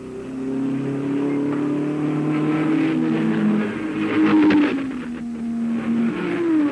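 Race cars at the Le Mans 24 Hours accelerate with loud engine tones that climb and drop as gears change, one car pulling hard close by while others sound further back, with no voices.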